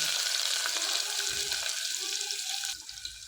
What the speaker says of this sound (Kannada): ಈಗ ಎಣ್ಣೆ ಚೆನ್ನಾಗಿ ಕಾದಿರೋದ್ರಿಂದ ಈರುಳ್ಳಿನ ಹಾಕ್ಕೊತಾ ಇದ್ದೀನಿ.